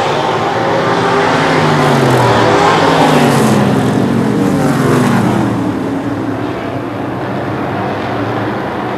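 Race cars lapping a short oval track at Lee USA Speedway in New Hampshire, engines roaring loud and continuous, rising and falling as cars pass close by, with no talk.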